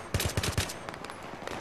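Gunfire in the first-person shooter Battlefield 3, a quick burst of four sharp, loud shots close together followed by softer, more distant scattered shots fading off.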